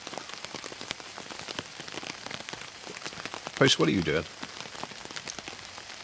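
Steady rain pattering on a small one-man bivvy tent and DD tarp pitched in a garden, a dense continuous patter with scattered louder drops; a person speaks briefly partway through over the rain.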